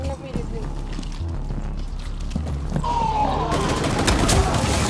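Rapid gunfire bursts in the co-op shooter Rainbow Six Extraction, dense popping shots and booms growing louder toward the end, with players talking over the action.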